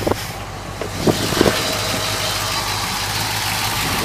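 A Ford 292 Y-block V8, bored .060 over and sitting in a 1966 Galaxie-style car, idles with a steady loud rumble, broken by a few light ticks and knocks early on.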